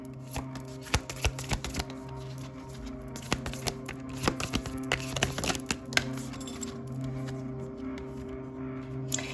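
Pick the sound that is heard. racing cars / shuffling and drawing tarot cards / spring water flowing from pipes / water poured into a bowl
shuffling and drawing tarot cards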